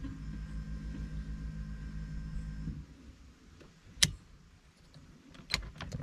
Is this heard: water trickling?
no